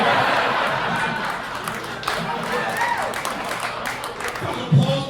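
A comedy festival audience in Milwaukee claps and chuckles, applause swelling and thinning over several seconds with scattered laughter and a voice cutting through near the end.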